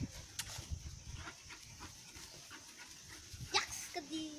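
A dog whimpers faintly and pants at low level, with one brief high whine near the end, while people talk in the background.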